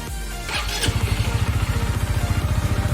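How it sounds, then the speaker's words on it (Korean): A motorcycle engine starting after an air filter replacement, quickly settling into a loud, close, rhythmic low idle with steady evenly spaced pulses. "공회전만 시켜주면 돼요 이제"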